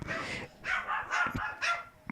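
Several house dogs bark in a short burst of four or five sharp, fairly loud, close barks, one overlapping the next, ending with a brief yip.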